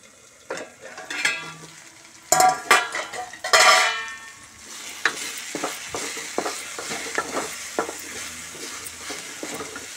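Fenugreek leaves frying in a pan with tempering give a steady sizzle broken by sharp stirring scrapes and clinks of a spatula against the pan, loud bursts early and then lighter, irregular clatter.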